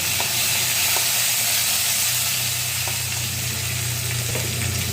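Onion sautéing in a pan with curry leaves, cumin and a little coriander gives a dense, continuous close sizzle with faint occasional clicks of stirring, and no one talks.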